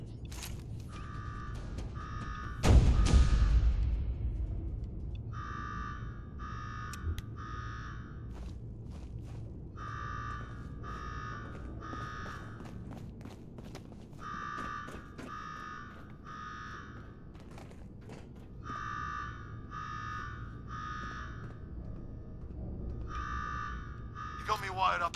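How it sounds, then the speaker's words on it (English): In the Fallout 4 video game, an alarm blares in loud, repeated electronic buzzing bursts that arrive in regular groups of pulses, following a brief loud crash early on, with low background noise throughout. "Now go shut off that damn alarm."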